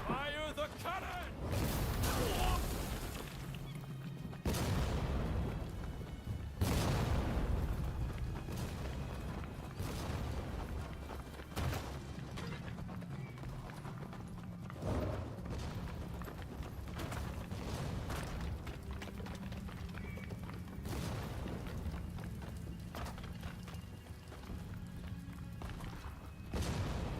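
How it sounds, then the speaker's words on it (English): Cannon blasts and explosions in the samurai action game Rise of the Ronin, a series of heavy booms spread through a dense, rumbling battle mix, with voices talking over it. "Fire the cannon!"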